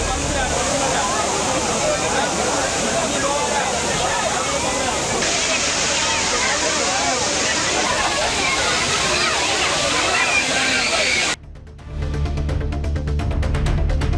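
A waterfall pours in a steady, loud, broadband roar crowded with tourists, the rush continuing almost unbroken before a brief dip near the end, with no other sound standing out.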